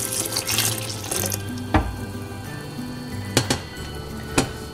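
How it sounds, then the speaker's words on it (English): Water pours steadily into a food processor holding red beans, a rushing flow near the mic that thins out and is broken by a few sharp knocks against the container. "the only thing left to do is to get the water and pour it as well"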